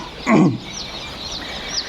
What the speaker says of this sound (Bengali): একদিন বয়সের এখানে গলাশিলার দেশি ক্রস হাইব্রিড মুরগির বাচ্চাগুলো আমরা ব্রুডিংয়ে দিছি